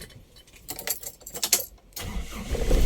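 A Toyota Revo with a low-power fault is started up: keys jangle and the starter cranks briefly, then the engine catches and settles into a steady, close idle rumble.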